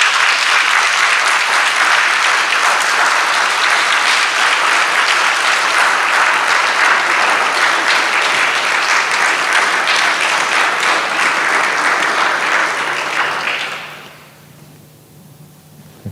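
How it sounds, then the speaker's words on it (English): Loud, sustained audience applause at a university graduation ceremony, a dense steady clapping that carries evenly for about thirteen seconds before quickly dying away. "a hearty round of applause"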